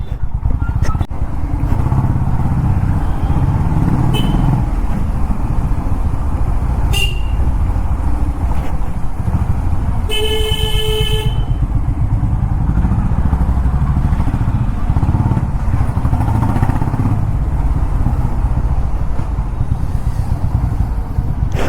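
A Honda CB350RS motorcycle rides through city traffic, its engine a steady low rumble mixed with road and wind noise, while a vehicle horn sounds briefly partway through.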